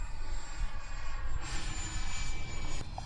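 A Freewing Raptor 70mm EDF RC jet flies at Fritz Field with a steady ducted-fan whine and rushing roar. It holds a fairly constant level throughout and sounds moderately distant.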